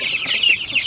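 Young chickens on pasture give a brief run of high, close chirping clucks.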